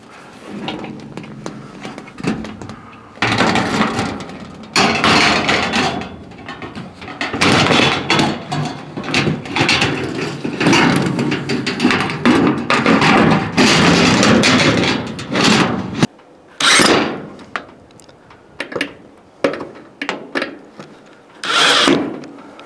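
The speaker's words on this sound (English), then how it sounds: "screw the two clips at the bottom to hold it from sliding down" Clips being screwed onto a gazebo panel while assembling a Sojag Mykonos gazebo, loud close bursts of power-driver whirring with rattles and handling knocks between them, separated by short pauses.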